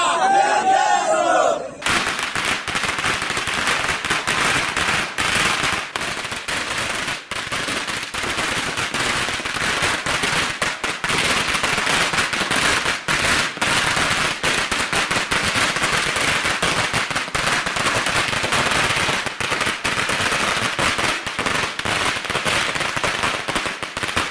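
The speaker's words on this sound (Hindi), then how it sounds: "जीतेश की जीत का जश्न मनाते हुए देगलूर और नांदेड़ में पटाखों की आतिशबाजी की गई।" Dense, continuous crackling of firecrackers and fireworks at an election victory celebration in Deglur and Nanded, loud and close, with a crowd cheering and shouting throughout.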